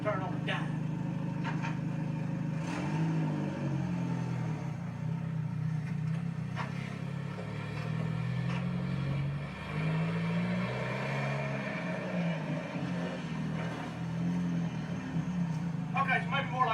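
A lifted turbo truck with wide front tires and a 250-horsepower engine rumbles and revs steadily at close range while making a tight turn, its low drone rising and falling throughout.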